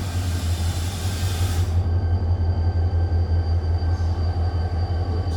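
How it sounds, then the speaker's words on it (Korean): A diesel-locomotive-hauled passenger train arrives at a station with a deep, steady engine rumble and rail noise, heard close and continuous, without voices. "1944열차 진입하겠습니다"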